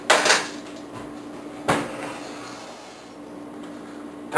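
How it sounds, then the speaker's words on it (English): A tray goes into a kitchen oven: a metallic clank at the start, a sharp bang of the tray or door in the middle, and another clatter at the end, fairly close and separated by quiet. "Let me put these in the oven."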